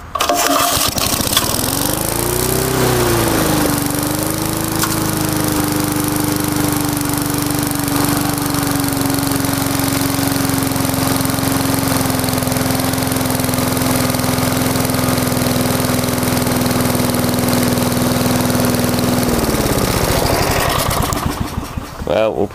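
A Briggs & Stratton 35 lawn mower engine restarts, still carrying a slight miss, then runs steadily and loud at close range for about fifteen seconds before cutting out.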